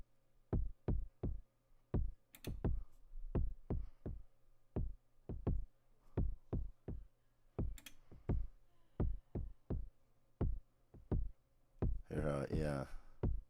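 A Perkons HD-01 drum machine plays a groove pattern with a ghost kick, sharp regular percussive hits in a steady rhythm with a few brighter accents, and a voice speaks briefly near the end.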